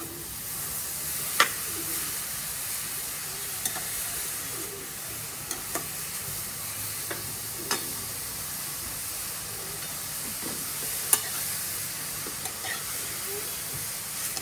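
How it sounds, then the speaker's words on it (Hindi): Grated carrots fry in ghee for gajar halwa, giving a steady, moderate hiss and sizzle with occasional sharp clicks and stirring scrapes from a spoon against the pan. "इसको करीब 2 से 3 मिनट अपन घी में भून लेते गाजर को।"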